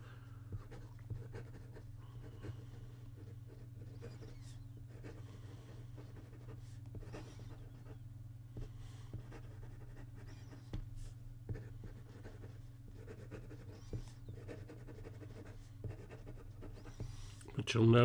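Asvine J16 fountain pen fitted with a Jowo nib writing on paper, giving a faint, continuous scratchy scrape with small strokes and pauses, close up over a steady low hum.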